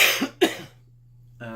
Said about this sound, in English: Excuse me, I have to cough a bit